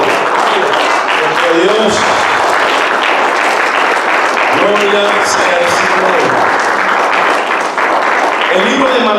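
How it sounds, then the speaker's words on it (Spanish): A church congregation claps steadily throughout, a broad wash of applause while a preacher's voice speaks over it. "¿Cuánto le pueden dar un fuerte aplauso al que vive?"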